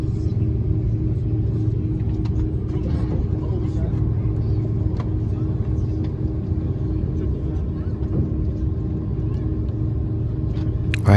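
Inside the cabin of a Korean Air Airbus A330 taxiing at Sydney Airport, a loud continuous low engine rumble and drone fills the space, steady throughout with slight rattles.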